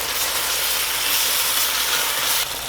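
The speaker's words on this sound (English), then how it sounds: "you just want to fry it until it gets a good color on it" Chicken pieces frying in a small pan for Kung Pao chicken over medium-high to high heat, giving a steady, loud, close sizzle and hiss that runs unbroken without any talking.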